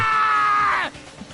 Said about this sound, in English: Hey, I heard a scream.